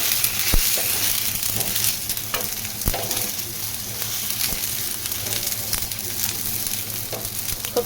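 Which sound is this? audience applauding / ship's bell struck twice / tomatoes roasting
tomatoes roasting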